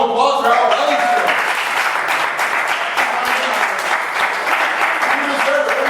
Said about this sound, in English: why don't we all give him a round of applause for how well he's doing?